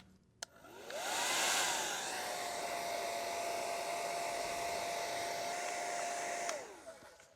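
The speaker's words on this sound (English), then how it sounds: "Then we're gonna hit it with the blow dryer." A hair dryer switches on and blows steadily on leather for about six seconds with a constant whining hum, then clicks off.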